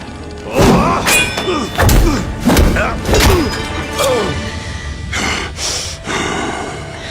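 Heavy thumps and thuds of someone being beaten in a dubbed period drama fight, a series of loud rhythmic blows mixed with grunts and gasps.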